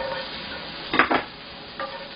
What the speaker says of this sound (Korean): 양파 볶으시고